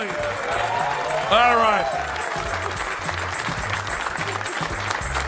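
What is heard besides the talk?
comedy club audience applauding and cheering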